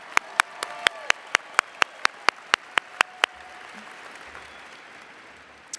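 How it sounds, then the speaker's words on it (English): Commencement audience at Northwest Vista College applauding: a dozen loud, evenly spaced claps ring out over a murmuring crowd, then the clapping stops and only faint room noise remains. "let's clap one more time for Mr."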